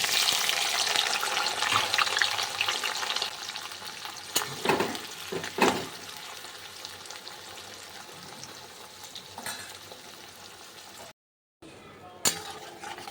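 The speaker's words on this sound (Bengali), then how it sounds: "এবার কেটে রাখা পেঁয়াজটা ভালো করে লাল লাল করে বেরেস্তা করে তৈরি করে নেব" Sliced onions frying in hot oil in a pan that already holds cardamom and cinnamon, a loud continuous sizzle broken by occasional stirring and scraping of utensils against the pan.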